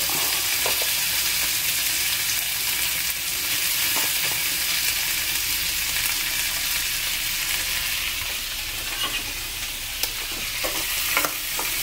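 Shrimp frying with garlic and butter in a pan, a steady loud sizzle that runs throughout with intermittent scraping and stirring knocks from a utensil, no voices.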